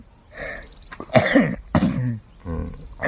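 A person nearby coughs in several harsh, uneven bursts, with throat clearing between them.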